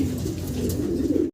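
A single male fancy pigeon of Afsan grizzle colouring coos close by in a steady, throaty, continuous run, the low rolling call filling the short moment alone before cutting off abruptly.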